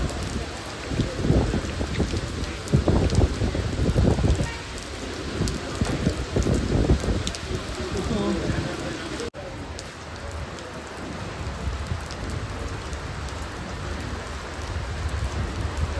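Steady rain pours down on a boat at sea in a sudden Arabian Sea storm, with heavier rumbling patches in the first half and a constant hiss of drops hitting surfaces.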